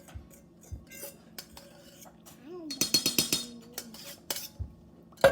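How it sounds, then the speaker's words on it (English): Spoon or utensil mixing wet and dry dandelion muffin batter ingredients in a bowl, a burst of quick rhythmic clinks and scrapes amid scattered taps, with a voice speaking faintly nearby. "you're going to mix them together"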